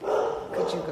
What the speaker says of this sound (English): you can hear my dog bark in the background because there's an Amazon guy here